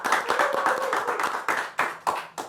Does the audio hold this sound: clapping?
yes